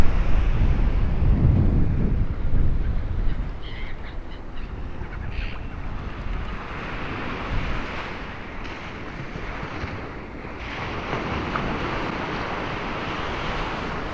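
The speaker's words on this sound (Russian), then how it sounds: "На море волны." Sea waves wash against a seaside embankment in a rolling wash that swells and fades, with gusts of wind buffeting the microphone and no voices over it.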